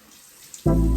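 A tap is turned on and water suddenly gushes into a sink, loud and close after a near-silent moment.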